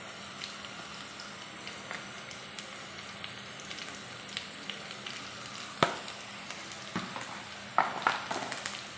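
Ginger garlic paste fries in oil with green chillies and curry leaves for lemon pickle, a steady close crackling sizzle with a few sharper stirring clicks near the end and no talking.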